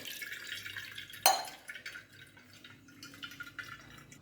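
Water drains and drips from strained ghee residue, opening with a sharp splash and clink, then trickling in scattered faint drips close by.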